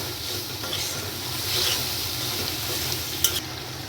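Masala for chana masala gravy fries and is stirred on a medium flame, a soft continuous sizzle with occasional spoon scrapes against the pan, close and with no talk.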